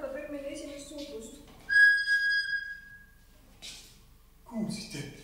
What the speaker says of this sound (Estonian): Vilistas! Vedur vilistas!